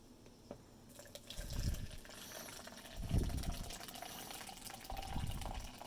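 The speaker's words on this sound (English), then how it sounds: "And finally get some piping hot water in there." Piping hot water pours into a cup holding a tea bag and sugar during a field ration meal, with a soft, faint liquid rush that swells in a few short bursts.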